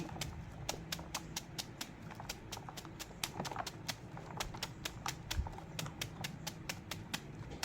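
A knife chops tender bamboo shoots on a board for pickling, a fast, steady train of sharp, close taps repeating evenly throughout over a low background murmur.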